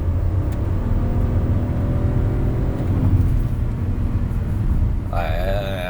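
A Hyundai Creta's 1.0 turbo engine drones steadily with a low rumble that swells slightly midway as it is revved. A voice briefly breaks in at the end.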